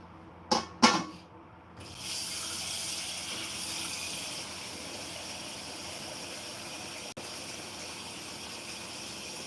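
Water pours into a cooking pot of chicken adobo with garlic, ginger, onion, peppercorns and bay leaf, a steady hissing gush after a couple of brief knocks, continuing alone and fairly close.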